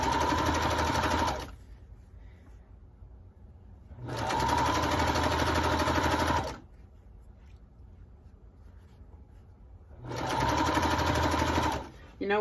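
Sewing machine stitching a travel pillow case, three loud bursts of rapid stitching separated by quiet pauses, close up.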